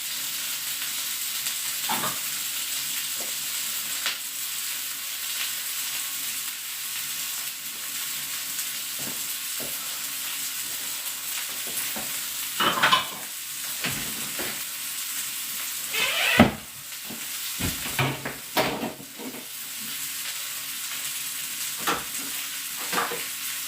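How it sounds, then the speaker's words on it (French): Onions cooking gently in a pan, producing a continuous soft sizzle with scattered spoon stirs and scrapes that grow busier toward the end, close and without talk. "je laisse cuire mes oignons tranquillement"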